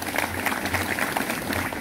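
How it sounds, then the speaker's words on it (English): A church congregation gives a short round of steady, moderately loud clapping that fills the room, with no one speaking over it. "Let us give them a clap."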